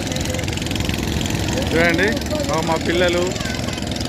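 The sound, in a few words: motor boat engines running on river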